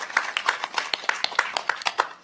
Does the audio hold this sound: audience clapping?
yes